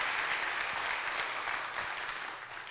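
An audience inside a church applauds in a sustained, dense wave of clapping that gradually fades toward the end, with no speech over it.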